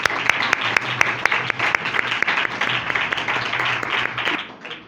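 Church congregation at a Sunday service applauds their pastor with loud, sustained clapping from many hands, dense and continuous before tapering off at the end, with a faint hum beneath.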